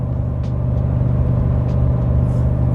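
Chevy 1500 pickup with a 6.2L V8 towing a load at highway speed, a steady loud low engine drone and road rumble that holds constant through a downshift, with no talk over it.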